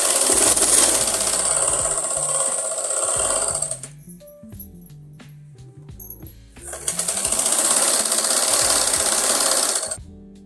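A sewing machine loudly double-stitches the back panel of a garment. It runs in two long bursts with a mechanical whir, and a quieter stretch of handling and clicks falls between them.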